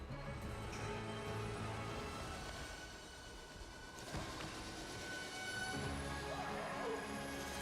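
Train in a Star Wars series scene, a continuous rumbling rail roar with rolling wheel noise and a faint high squeal, heard fairly quietly under the show's mix.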